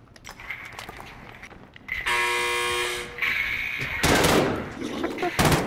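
Call of Duty Warzone match: buzzing tones and a steady electronic hum, then loud crackling bursts of gunfire near the end, close and fairly loud, with faint speech.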